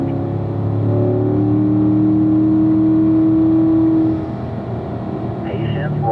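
A Corvette running on a racetrack at a driving school gives a steady loud engine drone from inside the car, holding a sustained tone before easing slightly near the end, with an instructor's voice over it.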